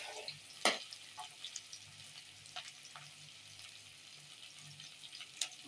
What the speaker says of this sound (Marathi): आता हा कांदा चांगला ब्राऊन होत आलाय